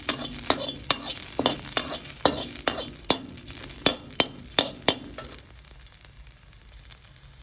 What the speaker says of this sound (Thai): ก็เอาน้ำมันใส่แล้วเอากระเทียมใส่นะคะ